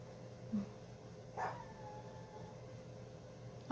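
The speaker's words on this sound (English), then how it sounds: "Listen to my little hound dog." A small Chihuahua dog gives a couple of short, faint yips a second apart in a quiet indoor room, with steady background hum and no talking.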